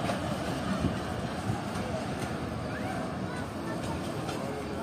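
The 11 Up Hazara Express passenger train pulls out of the platform at Rahim Yar Khan station, a low continuous rumble and clatter of wagons rolling past at moderate distance, with someone talking over it.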